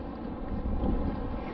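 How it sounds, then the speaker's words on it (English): Wind gusts across the beach and buffets the microphone in a continuous low, rumbling rush, with no one talking. "it's going to be a little windy today. I'll try to keep my back to the wind"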